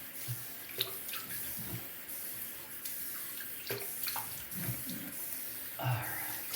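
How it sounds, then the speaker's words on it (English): Tap water runs and splashes in a sink as a face is rinsed after a shave, with intermittent splashes and handling noises over a steady faint flow. "let me rinse with some fresh water"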